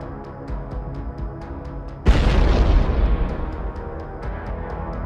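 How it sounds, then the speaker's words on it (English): A heavy landmine blast strikes a Russian vehicle column in open southern fields, one sudden loud boom that rolls off into a long rumbling decay over a steady background hum with regular faint ticking. "the Russian columns started hitting landmines as soon as they left the town of Lubomova"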